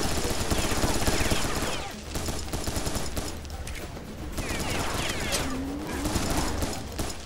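Dense video-game gunfire from Serious Sam 3 fills the whole stretch, a loud continuous barrage of rapid shots with brief lulls, and faint voices mixed underneath.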